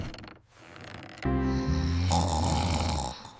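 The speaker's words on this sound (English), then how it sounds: "I do not like your snoring." Loud, droning snoring with a rough, motor-like rumble sounds up close in a bedroom setting, drawn out across a couple of seconds with no talking.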